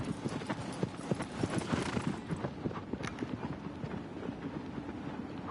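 A horse gallops in the video game Shadow of the Colossus, its hooves pounding in a fast, steady clip-clop rhythm that carries on unbroken and close, with no talk over it.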